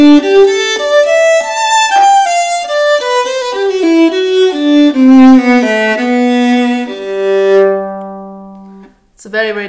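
A cello played with a wooden mute on the bridge, sul ponticello, gives a short melodic phrase of clear bowed notes that ends on a long held low tone, heard alone.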